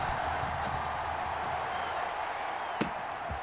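A steady, loud crowd roar fills a football stadium in the Madden 21 video game, holding at an even level throughout, with one brief sharp knock near the end.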